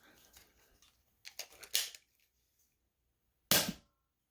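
Nerf Second Wind blaster firing Adventure Force Pro darts, a few soft mechanical clicks then sharp snappy shots, one isolated and loud near the end.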